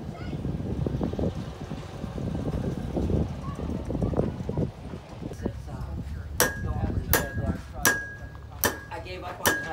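Sharp metallic hammer strikes ring out in a slow, steady series of about six blows after a stretch of windy outdoor noise and rustling.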